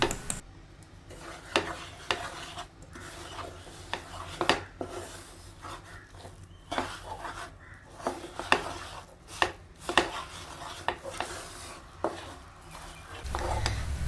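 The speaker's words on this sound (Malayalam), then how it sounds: "ഇനി നമ്മൾ നമ്മൾ പൊടിച്ചു വെച്ചിരിക്കുന്ന അവിൽ കൂടി ഇതിലേക്ക് ചേർത്ത് നന്നായിട്ടൊന്ന് ഇളക്കി കൊടുക്കാം" Powdered flattened rice (avil) being stirred in a pan for a snack: repeated scraping strokes and sharp knocks of a spoon against the pan, fairly close and quiet.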